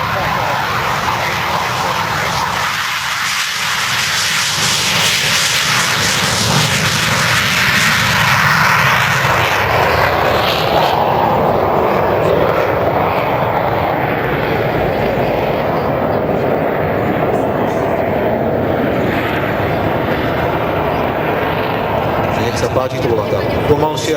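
A helicopter hovers at the SIAF 2013 air show while waiting to refill a Bambi firefighting bucket, its loud, droning engine and rotor sound continuous and shifting, with a commentator talking over it.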